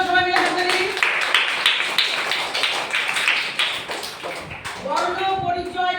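A group of schoolchildren clapping together in a classroom, a dense burst of rapid claps that fades after several seconds as voices come back in.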